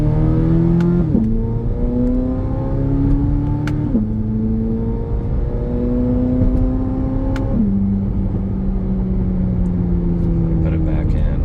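A 2024 Chevrolet Corvette Z06 engine on a test drive in manual mode hums steadily from inside the cabin, its pitch climbing through each gear and dropping sharply at three upshifts.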